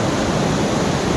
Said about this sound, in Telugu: ఎన్ని వాటర్ వస్తాయంటే అసలు అది సౌండ్ వినటానికే ఎలాగో ఉంది